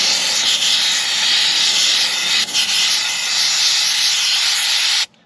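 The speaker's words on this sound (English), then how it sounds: "since all this paint's dry, I can just air hose it off and it'll be nice and clean" A compressed-air hose blasts steadily at dried paint on the wheels of a WWII half-track, a loud, continuous close-up hiss with one brief dip before it cuts off.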